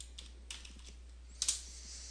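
Computer keyboard keys are pressed: a few light clicks followed by a sharper, louder enter key press, close-up over a quiet steady hum, with no talking.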